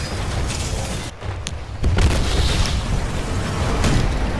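Booming video-game explosions from a minigun battle go off in quick succession, loud and close, with dense low rumble and crackling debris filling the whole stretch without pause.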